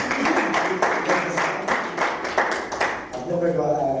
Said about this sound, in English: I've never got applause at the beginning of this speech before